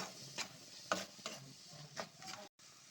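A spoon stirs garam masala and salt into an egg gravy in a pan, giving several scraping strokes over a soft, steady sizzle, close and fairly quiet, with a brief silent gap near the end.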